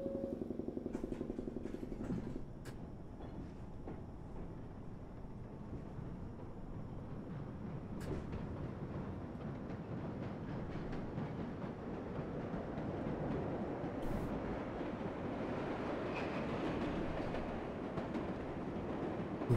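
A number 7 local subway train in the World of Subways 4 simulator runs steadily, its low rumbling rail noise building after a brief quieter start and continuing alone throughout.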